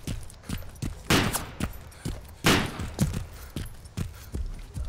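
Gunfire in a battle royale video game, a series of sharp shots and short bursts, some loud and close, others more distant, spread unevenly across the stretch with faint thumps in between.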